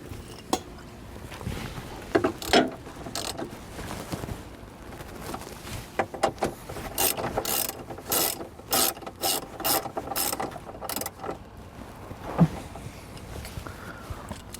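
A ratchet tightening nuts on battery wire terminals for a battery disconnect switch, with bursts of rapid clicking that come in quick repeated strokes, close and fairly clear, with no talking.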